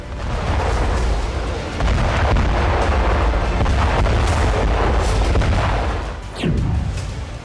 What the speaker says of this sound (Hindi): उनकी सेना रूस पर स्टॉर्म शैडो मिसाइल से हमला कर रही थी